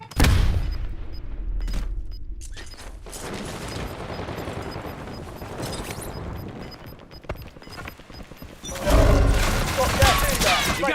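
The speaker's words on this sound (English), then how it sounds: "Concussion grenade." A concussion grenade goes off in a video game, with a loud boom and sustained crackling gunfire around it, then another heavy blast near the end, all close and loud.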